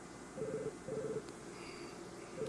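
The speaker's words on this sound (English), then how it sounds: "Where is that phone coming from?" A quiet telephone rings in short repeated bursts somewhere in the room, faint and in the background.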